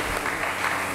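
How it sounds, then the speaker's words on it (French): A church congregation breaks into steady, dense applause for a couple, loud and close, filling the whole short moment with clapping. "Acclamons pour le couple"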